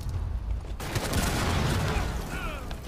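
Gunfire in Rainbow Six Siege, a dense rattling burst of shots over a constant rumbling bed, loud and continuous through the moment.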